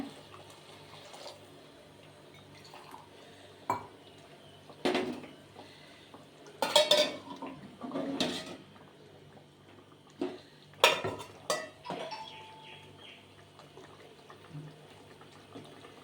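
Water splashes and pours into a metal pot for cooking rice for paneer biryani, amid clinks and knocks of kitchenware, in short intermittent bursts against a quiet background.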